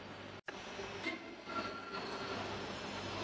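Winsome industrial vibratory sifter, a vibrating sieve driven by one motor with weights on both shaft ends, running with a steady loud rumbling hum and broadband rattle, briefly cut out near the start, then continuous.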